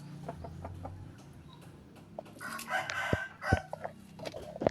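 A rooster crows amid scattered clucks and farmyard noise, an Aseel Shamo gamefowl, the crow rising midway and fairly close, with a few sharp knocks.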